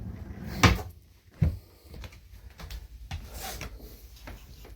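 Wooden kitchen cupboard doors open and close, with two sharp knocks early on followed by softer rubbing and thuds, all close by in a quiet room.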